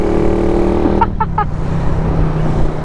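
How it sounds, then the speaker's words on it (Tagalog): Road traffic near a town stoplight, recorded on a GoPro Hero 10: loud, close engine rumble from passing vehicles, with three short horn-like beeps cutting through partway. "Traffic again."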